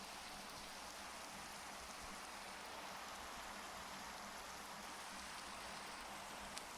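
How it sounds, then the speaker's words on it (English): Steady, even rainfall in a video game hisses continuously at a soft level, with no voices or other sounds over it. "Still raining."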